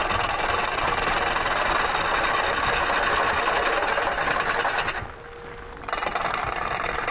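Wood lathe spinning a green wood bowl blank while it is roughed out, a loud continuous whirring hum with a brief drop in level just past five seconds, then the steady drone resumes.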